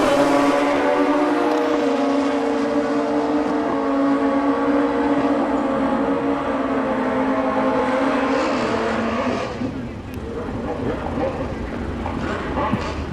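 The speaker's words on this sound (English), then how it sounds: "Motorcycle drag racing." Motorcycle drag racing engines at a Mancup World Finals event, a loud, sustained roar heard at a distance with crowd and announcer-like talk blending in, dipping slightly near the end.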